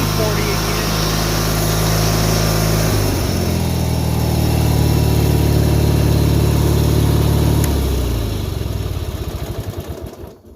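Old tractor engine, just treated with WD-40, restarting and settling into a loud, close, steady idle with a rhythmic chug that shifts pitch midway, then cuts off and fades at the end.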